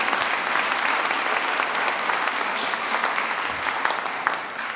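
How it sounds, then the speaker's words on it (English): An audience at a Lutheran church brass concert applauds, a dense and even wash of clapping that holds steady throughout and tapers slightly at the end, with no voices over it. "Give yourselves a round of applause."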